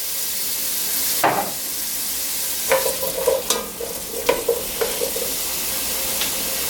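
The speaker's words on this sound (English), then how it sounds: "we're going to saute that for about 8 to 10 minutes or until the squash is tender" Diced onion and butternut squash sautéing in olive oil in a pan, a constant bright sizzle with several distinct stirring scrapes and clatters of a utensil against the pan, nearby and with no talking.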